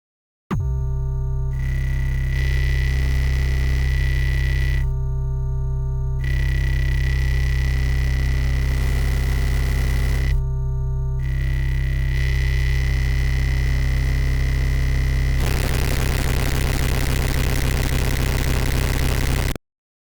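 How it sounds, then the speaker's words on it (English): A bit-crushed, sample-rate-reduced synth tone in the style of Mick Gordon's DOOM sound, built in Renoise, holds a loud, sustained, buzzing drone with rhythmic gaps, then shifts into a harsher, grittier degraded texture near the end. "it'll really start degrading the sound by lowering the bit crunch, lowering the sample rate"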